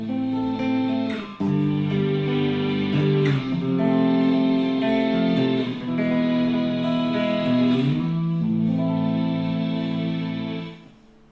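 Gibson Explorer electric guitar chords through an ambience pedal ring out, washed in reverb and shimmering effects, each chord swelling and blending into the next.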